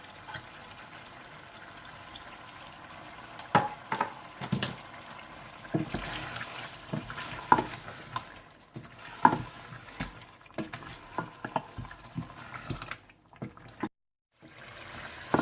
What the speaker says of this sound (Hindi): चिकन अच्छी तरह से भून चुका है, तेल और मक्खन अलग हो चुका है।